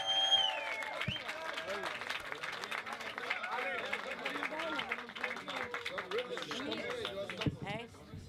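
Audience applause and cheering for beatboxer Alex Katsakis at the Greek Beatbox Championship 2013 grand final, a steady dense wash of clapping and crowd noise sustained for several seconds with a voice talking over it.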